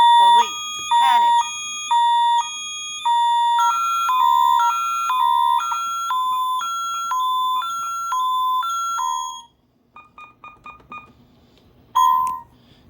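A security alarm keypad set to police panic sounds a steady run of loud electronic beeps in an even stepped rhythm, then falls quiet to a few softer clicks before one last sharp beep.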